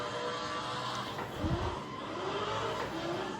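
An engine revs and tyres squeal as a car drifts in a driving simulator game, rising and falling whine over a constant engine drone, fairly loud and with no talking.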